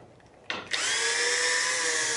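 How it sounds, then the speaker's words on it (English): A cordless drill with a nearly dead battery starts up with a brief stutter, then whines steadily at close range, loud and alone, its motor tone sustained. "Of course, I choose a drill that's almost out."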